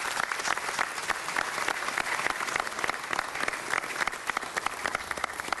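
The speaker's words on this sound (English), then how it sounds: "Let's give them a big round of applause." An audience at a Los Angeles City Council meeting claps in a dense, sustained round of applause that stays steady from start to finish without fading.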